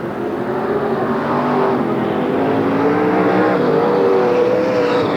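Stock cars at a 1992 Marysville, California race roar loudly into the final corner off turn four, a dense, sustained engine howl rising in pitch as the pack accelerates, close and overpowering.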